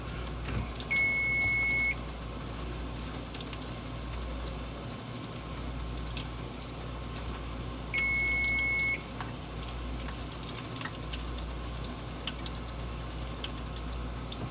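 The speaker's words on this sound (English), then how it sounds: "Sorry for the beeping." A kitchen appliance gives two long, steady electronic beeps, each about a second, several seconds apart, clear over a background hiss and low rumble while Chinese golden fingers are cooked.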